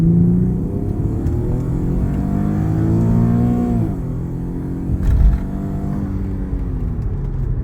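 An Infiniti car accelerates hard with a loud, rising engine roar that climbs in pitch through the gears, dips briefly at a shift, then pulls again, heard close up from inside the cabin with no talking.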